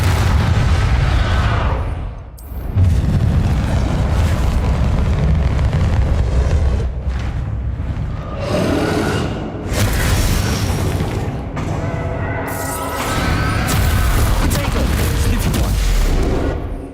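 The Bombarda explosion spell in the wizarding video game Hogwarts Legacy sets off loud, sustained booming blasts with heavy low rumble, brief dips between bursts and a dense, continuous roar throughout.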